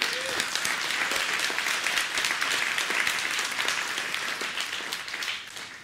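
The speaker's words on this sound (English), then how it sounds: "Okay, thanks for clapping." Audience applauding in a church during an Easter service, a dense sustained burst of many hands clapping that fades slightly at the end.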